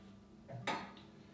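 A pot holding onion, garlic and a pinch of other ingredients is set down on the stove with one soft metallic clunk, close and brief, against a quiet background.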